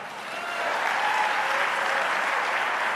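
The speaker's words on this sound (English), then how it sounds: "A round of applause if you'd like to hear the shortest speech by a politician ever" Steady applause from a town hall audience, rising after a soft start and holding as a dense, even wash of clapping for several seconds with no voices over it.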